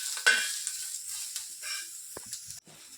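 Chilies and onion stirred in a little oil in a pan, a soft steady sizzle with spatula scrapes and a few sharp knocks, fairly close and with no talking.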